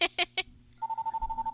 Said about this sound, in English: My other phone is ringing.